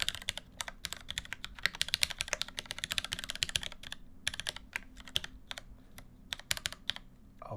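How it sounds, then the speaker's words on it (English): Rapid typing on a mechanical TKL keyboard: dense bursts of crisp, close clicks and clacks, pausing briefly before resuming in quicker scattered strokes, with no voices. "I just typed your message, Grog Hunter."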